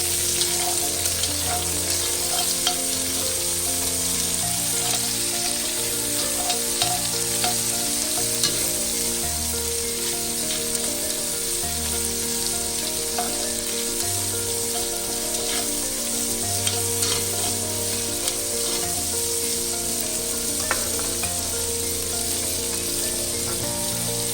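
Peppers frying and being stirred in a pan already used for cooking meat, giving a steady close sizzle with scraping stir sounds throughout and no talking.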